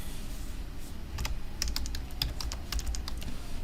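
Quick bursts of keystrokes on a computer keyboard as a password is entered, close and crisp, in a few uneven clusters with no talking.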